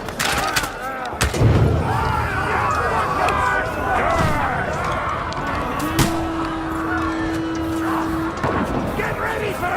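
Battle gunfire in an Unreal Engine 5 game demo, with loud dense shots and booms filling the scene over a constant rumble, while voices shout in the mix.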